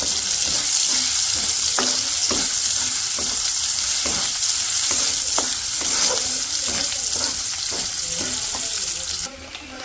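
Vegetable pieces fry in a pan in a village kitchen, giving a loud, continuous sizzle broken by repeated scraping strokes of stirring, with no talk, before the sizzle drops off near the end.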